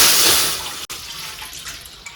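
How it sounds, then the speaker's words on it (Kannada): Water pours into a frying pan in a home kitchen, a bright steady splashing stream that cuts off abruptly, followed by quieter trickling and settling. "ಬಾಣಲಿಗೆ ನೀರು ಹಾಕೊಳ್ಳಿ."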